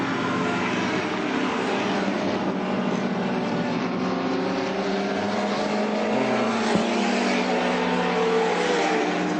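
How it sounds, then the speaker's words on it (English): Six-cylinder BMW and V8 Ford Falcon touring cars race at Lakeside in the 1984 Australian Touring Car Championship, engines roaring loud and steady throughout with a continuous droning blare and no voices. "Shows you the power of the 6-cylinder BMW and the V8 Falcon at nearly twice the engine capacity."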